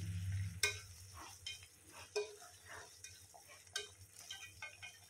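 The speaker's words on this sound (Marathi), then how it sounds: "रोस्ट केलेले काजू, बदाम आणि मनुके घालायचेत। हे सर्व मिक्स करून घ्यायचंय।" A spoon stirs lauki halwa made with bottle gourd and mixed with roasted cashews, almonds and raisins, giving quiet irregular scraping and soft sizzle in a pan, faint and close, with no one speaking.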